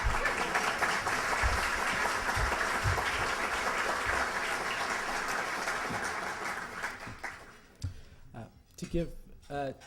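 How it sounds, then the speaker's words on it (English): Applause from an audience at an anniversary event for a volunteer caregiving organization, a broad steady wash of clapping that thins and fades out in the last seconds as scattered sounds and voices take over. "You can clap."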